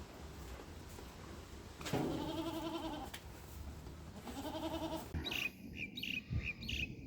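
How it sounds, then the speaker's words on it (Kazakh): Goats, including a buck among does kept for sale, bleat in a few wavering calls, two longer bleats spaced apart, then shorter ones, over steady background hiss at a fair distance. "Осы ешкілер оптом сатылады."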